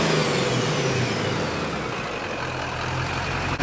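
A diesel truck engine fitted with a new downpipe roars steadily up close, revving with a deep rumble that swells slightly, no voices.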